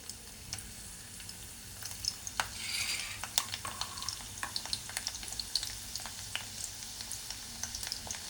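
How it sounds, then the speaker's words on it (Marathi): Garlic dropped into hot oil, a crackling sizzle with spatters and scraping stirring strokes, close and fairly quiet. "तापलं की त्याच्यानंतर आपल्याला टाकायचं आहे लसूण। तर लसूण टाकूया।"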